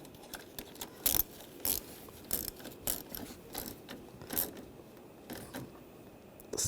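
A ratchet wrench tightening a bolt during starter replacement on a 2011-2018 RAM 1500 3.6L V6, heard as quiet, close clicking bursts in uneven short runs.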